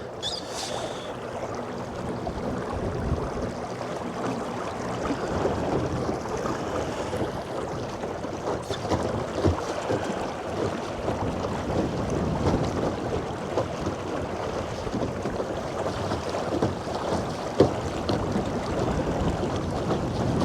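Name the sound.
strong wind on a boat at sea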